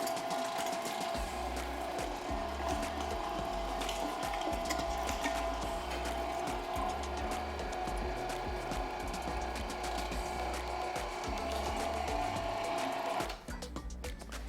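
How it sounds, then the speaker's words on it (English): An electric meat grinder grinds beef for tacos, a steady motor hum with a low rhythmic churning throughout, stopping abruptly near the end with no talking. "So here we go, gonna turn it on. And start making our ground beef."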